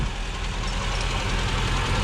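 A vintage 1968 BMW 1602 engine runs steadily, a close, loud, rough idle with a continuous low rumble and uneven throbbing, no voices.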